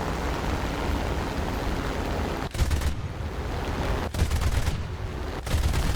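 He-112 fighter cannons firing in War Thunder, dense continuous bursts blended with engine roar, broken by a couple of short pauses before firing resumes.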